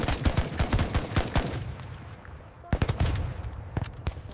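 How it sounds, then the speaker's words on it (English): A Bren light machine gun firing on a North Africa battlefront, with rapid bursts of loud close gunshots, a brief lull, then another burst over a rumbling background. "Bren cuts the air, forcing the enemy to keep their heads down."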